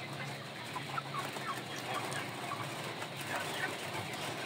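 Indio Gigante chickens cluck softly in the background amid constant outdoor noise, a few short clucks scattered over several seconds, fairly distant.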